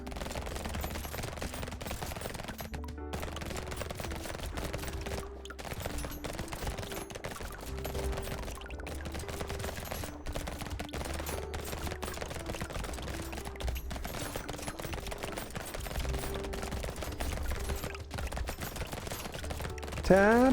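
Rapid SMG gunfire from a Soldier character in Brotato rattles nonstop as a dense, fast stream of shots over game music, with a player talking throughout.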